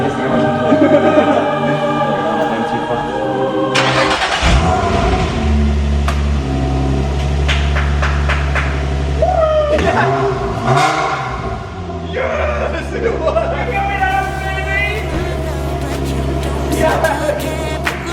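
Car engine revving after a misfire repair, loud close roar rising and falling through several throttle blips with mechanical clatter, steady idle rumble between revs.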